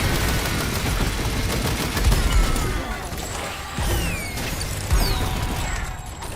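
Rapid explosive-round gunfire in the video game Helldivers 2, a busy stretch of overlapping shots and booms with a few louder blasts, dense and close with no talk.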